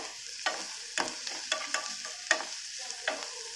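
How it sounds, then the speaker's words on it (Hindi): Onions with a little salt roast in a pan for paneer sabji, a soft steady sizzle punctuated by about ten sharp spatula scrapes and taps of stirring, close and without talk. "देखिए दोस्तों, हम ये प्याज रोस्ट कर रहे हैं।"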